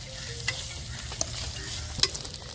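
Andhra-style chicken fry being stirred in a pan, a steady close sizzle and hiss with a few scraping clicks of the spoon against the pan and no voices.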